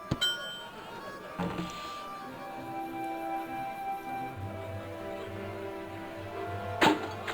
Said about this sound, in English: and then hit the bell...